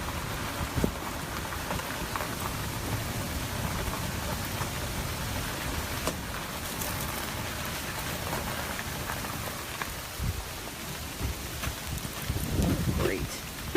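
Rain falls steadily during Hurricane Irma in South Florida, a constant hiss of drops on surfaces with light wind noise and occasional sharper splashes, loud and unbroken throughout.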